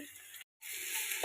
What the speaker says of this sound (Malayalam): ക്യാരറ്റ് ബീട്രൂട്ട് ചട്ടിയിലേക്ക് ഇട്ട് കൊടുക്കുക.